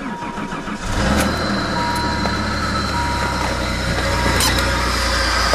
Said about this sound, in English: So we're gonna do a cold start on Nate's car